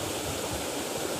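A waterfall pours into a koi pond at a botanical garden arboretum, a steady close rush of falling water with no pauses and no voices.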